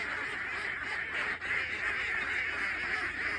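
A large flock of domestic ducks at pasture, a dense continuous chorus of overlapping quacks and honks close by, steady and fairly loud throughout.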